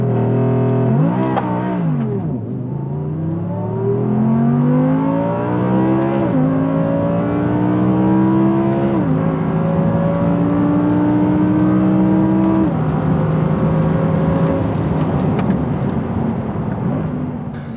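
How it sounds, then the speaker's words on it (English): Stock Audi R8 V10 Performance launching hard from a standstill and pulling through the gears at full throttle, loud and close, with a rising engine note broken by several quick upshifts and no talking. "We'll be doing one proper launch with a full pull."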